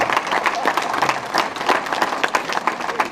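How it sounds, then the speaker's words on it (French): A crowd at a prize-giving ceremony applauding steadily, dense clapping filling the room at moderate loudness with some voices mixed in. "On applaudit."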